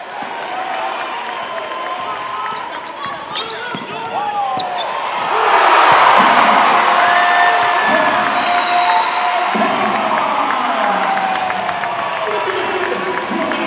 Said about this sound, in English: The crowd enjoy that.